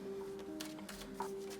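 Cards being shuffled in a short, soft riffling burst, close by, over a faint steady hum.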